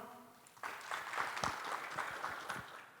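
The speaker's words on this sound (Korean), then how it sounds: "기현민 팀장님 박수로 맞이해 주십시오" An audience at the 2021 Korea Innovation Fair claps to welcome a presenter. The applause is soft and distant, swelling after a brief quiet moment and then holding steady.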